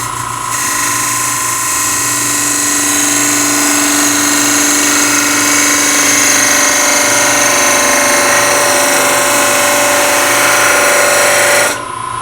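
A lathe cores a segmented turning of walnut burl, cutting narrow rings, with a loud, steady whine of the spinning machine and cutting tool that holds constant for about eleven seconds before stopping abruptly, no talking.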